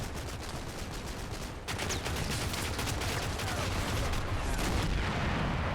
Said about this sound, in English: Mortar bombs landing in position, machine gun flailing out.